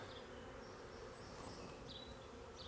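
Honeybees buzzing around an open hive being split into many colonies, a dense continuous hum close by with no voices, steady and unbroken throughout.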